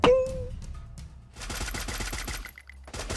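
Gunfire in the mobile game Free Fire: a short in-game tone, then rapid automatic bursts of close, crisp shots, briefly pausing before another burst resumes.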